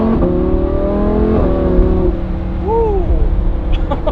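A Lamborghini Huracan engine climbs in pitch under acceleration, drops briefly at a gear change, then pulls again, loud and close from inside the car, with a short voice near the end.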